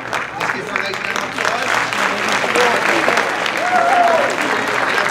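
An audience at a middle school talent show applauds the school staff with steady, full clapping throughout, and voices call out and chatter beneath it.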